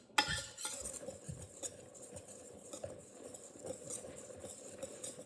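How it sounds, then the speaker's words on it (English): A dirt dessert mixture of crushed Oreos being stirred in a bowl makes faint, soft scraping and clinking of utensils, irregular and quiet, with a sharper knock at the start. "Stir it up."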